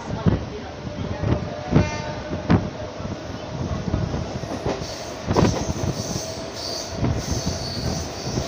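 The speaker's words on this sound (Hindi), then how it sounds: "थाने से अपनी ट्रेन का डिपार्च हो चुका है, देख सकते हैं कितना स्पीड में" A Mumbai local train pulls out of Thane station, wheels clattering and screeching in loud rhythmic bursts over the rails, with metallic squeals and brief horn-like tones, close and dominant throughout.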